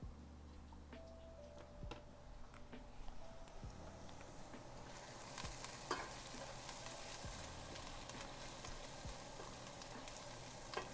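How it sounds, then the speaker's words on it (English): A pot of borscht with onion and carrot is stirred while it cooks, giving a steady soft sizzle with scattered light scraping ticks and clinks throughout. "First, we'll go stir the soup"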